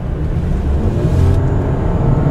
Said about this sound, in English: when you do hit the gas, it does have a lot of oomph